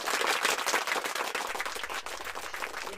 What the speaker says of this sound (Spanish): Un aplauso para Nadine.